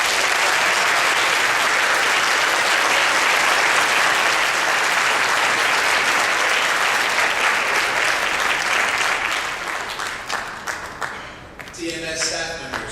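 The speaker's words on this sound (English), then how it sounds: "Students and staff, please join me in giving our families a big round of applause." Loud, sustained applause from families, students and staff at an 8th grade bridging ceremony, a dense wash of clapping that holds steady for about ten seconds before thinning into scattered claps as a voice begins speaking.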